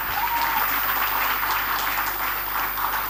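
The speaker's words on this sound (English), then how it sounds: "We can clap harder than that." Steady applause from a convocation audience in a seminar hall, continuous clapping filling the room for a few seconds with no voices over it.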